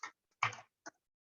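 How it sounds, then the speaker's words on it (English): Three quick, quiet keystrokes on a computer keyboard, the middle one a slightly longer cluster of clicks, with silence between them. "if I type anything"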